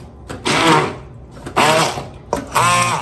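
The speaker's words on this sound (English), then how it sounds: "I'm blending this with my immersion blender" An immersion blender whirs through cantaloupe in three short pulses, each a loud buzzing burst of about half a second separated by brief pauses.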